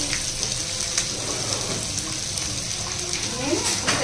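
Fish fries in hot oil with a steady, close crackling sizzle that runs throughout, while someone talks over it.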